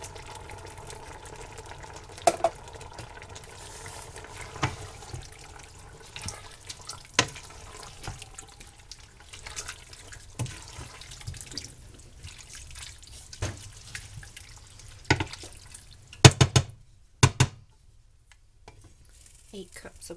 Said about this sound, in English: Eight cups of water.